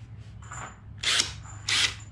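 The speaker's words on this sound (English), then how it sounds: "Got my Ryobi drill driver here." Ryobi drill driver boring through with a 9/64 bit, two short close whining bursts with a quiet pause between, over low background hum.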